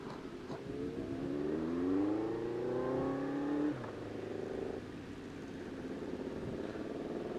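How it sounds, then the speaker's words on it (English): A Yamaha R6 engine on a car-based trike rig where a car pushes a bike revs up with a rising, sweeping tone, then drops off and settles to a quieter idle, moderately distant and without talk. "It's a car pushing a bike. So essentially it's a trike."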